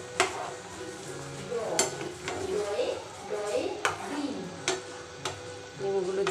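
A utensil stirs fried eggs through a cooking pot, giving a few sharp scattered clinks and scrapes over a low, steady kitchen background.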